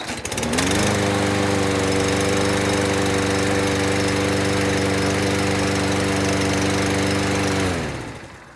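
A Troy-Bilt lawn mower with a Briggs and Stratton engine and a plastic carburetor starts and runs steadily at a loud, close, even drone for several seconds before winding down.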